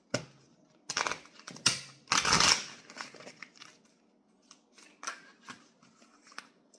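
Tarot cards are shuffled and drawn close up, with a few bursts of riffling and flicking followed by softer taps and slides of cards, quiet with no talking.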